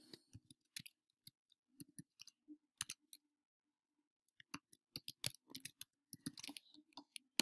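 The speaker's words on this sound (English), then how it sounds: "Let me type it more consciously." Irregular clicks of fingers typing on a computer keyboard, close and fairly quiet, coming in short bursts with a brief pause midway before a quicker flurry of keystrokes.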